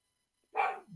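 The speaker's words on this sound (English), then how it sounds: "you hear my dogs getting mad at me now" Dogs barking at a person nearby, a sudden loud burst of several overlapping barks arriving mid-clip and trailing into a lower growl-like tone, with no talk over them.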